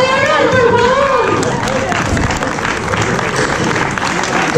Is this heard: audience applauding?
yes